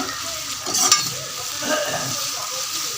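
Ginger garlic paste sautéing in a pan on medium flame while being stirred, a steady close sizzle with brief scraping stir sounds, no voices.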